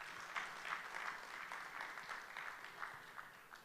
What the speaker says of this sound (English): A big applause for all of you who are sitting at the back.